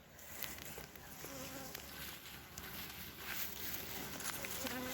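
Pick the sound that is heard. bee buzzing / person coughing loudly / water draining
bee buzzing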